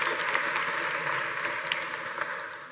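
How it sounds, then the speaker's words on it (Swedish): Warm applause from a seated audience at a Swedish panel discussion on mortgage amortization rules, a steady dense patter of many hands lasting throughout, with no speech over it. "En varm applåd till panelen"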